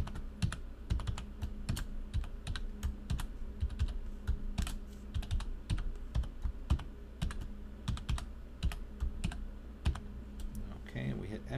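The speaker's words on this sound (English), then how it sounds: "It's pretty long, so we hope we type it correctly." Steady clatter of keystrokes on a computer keyboard as a long passphrase is entered at boot for an encrypted Debian 9 drive, dense irregular taps running throughout at close range with no talking.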